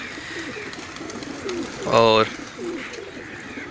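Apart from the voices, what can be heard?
pigeons cooing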